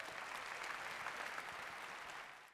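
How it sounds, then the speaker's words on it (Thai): A crowd claps steadily, dense and sustained, fading slightly at the end. "ขอเสียงปรบมือดังๆด้วยนะครับ"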